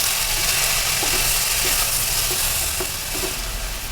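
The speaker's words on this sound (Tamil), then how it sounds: "தக்காளி கொஞ்சம் நேரம் வதங்கட்டும்." Two medium tomatoes sautéing in a pan, a continuous close sizzle with faint occasional clicks of stirring, steady and fairly loud throughout.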